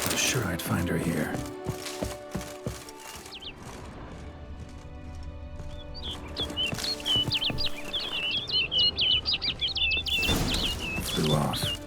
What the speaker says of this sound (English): Looks like the bird's leading me somewhere.